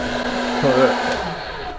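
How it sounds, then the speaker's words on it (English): A blow dryer whirs with a steady high-pitched motor hum, close by, used to seal a leak on a camper van roof, with a brief muffled bump partway through. "So I got the blow dryer sealing the top because I had a little leak."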